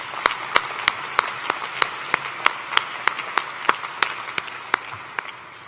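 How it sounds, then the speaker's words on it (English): A university commencement audience applauds, a steady run of crisp, evenly spaced claps carrying over a dense clapping bed that slowly tapers toward the end. "Please join me in giving them a round of applause."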